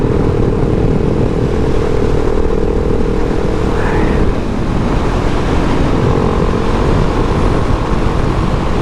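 A 2019 KTM 690 SMCR single-cylinder supermoto engine drones steadily while riding, loud and continuous with wind rush and a slight change in tone midway, no speech.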